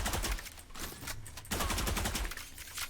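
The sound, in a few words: gunshot in Valorant video game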